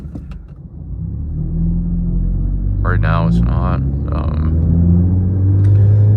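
Modified exhaust on a 2022 Acura ILX A-Spec rumbles low and steady while idling in neutral, close by, with someone talking briefly over it.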